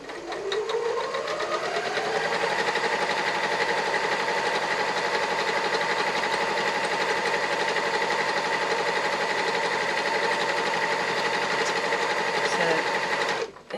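Sewing machine stitching a laptop bag, including a short reverse run to reinforce a seam: a close, loud, continuous mechanical whir and rapid needle chatter that runs steadily from start to finish with no talk.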